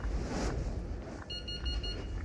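Repeated electronic alarm beeps sound from the VR game Into the Radius, a rapid run of short even tones in the second half over a rumbling, noisy game background.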